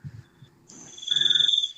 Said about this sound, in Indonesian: Tuh kan suara jangkrik lagi kan.